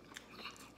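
Someone chewing McDonald's burger patties during a 12-patty eating challenge, with close, wet bites and mouth sounds over a brief moment.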